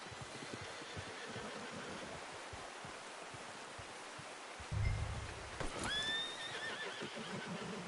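A horse neighs in the game Red Dead Redemption 2, a rising, shrill whinny partway through, preceded by soft clip-clop hoofbeats over a steady rushing outdoor background like flowing water.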